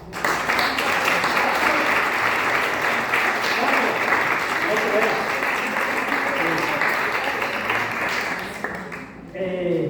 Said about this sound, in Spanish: Un aplauso a los tres